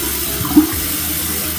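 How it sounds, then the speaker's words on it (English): Hair being dipped into water to loosen rat nests, a steady wash of running, sloshing water with one brief splash near the start, with no talking. "Okay, so I dipped it in water."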